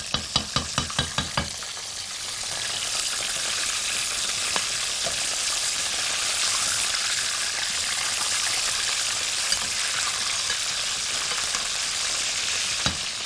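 Chicken strips fry in hot oil, with a dense, loud sizzle running steadily for the whole stretch. It opens with a quick run of sharp clicks from turning the pieces, and a few faint knocks follow.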